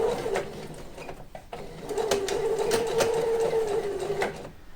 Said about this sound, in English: I'm putting it into the machine and winding the pedal.